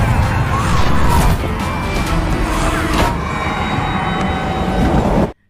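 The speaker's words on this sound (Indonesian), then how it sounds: "Kereta pun meluncur dengan cepat" A train speeds along in an animated fantasy series, a loud, steady rushing rumble with faint rhythmic clatter running for about five seconds before cutting off abruptly.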